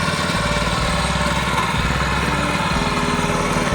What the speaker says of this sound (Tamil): அதுதான் அப்பா பவர் வீடர் மூவ் பண்ணிகிட்ருக்கிறாரு